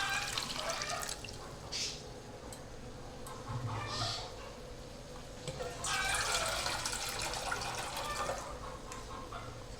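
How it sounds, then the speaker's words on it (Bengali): Water poured into a pot of mixed vegetable curry, a continuous close splashing and gurgling pour with bubbling texture, steady throughout. "এখন আমি জল দিয়ে দেব।"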